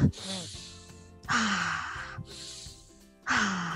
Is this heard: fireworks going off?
no